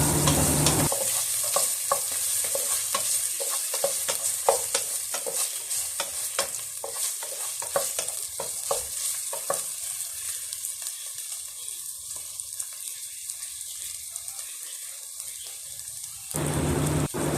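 Ginger sizzles in a hot pan while a spoon stirs it, giving a continuous bright hiss with a long run of rapid scraping clicks that thin out before the sizzle swells again near the end.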